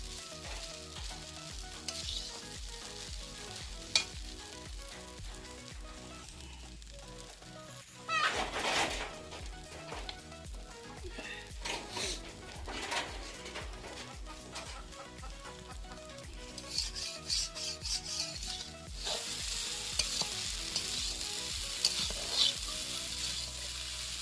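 Egg chow mein sizzles and fries in a wok while a utensil scrapes and stirs repeatedly, with brief louder clatters; no talking.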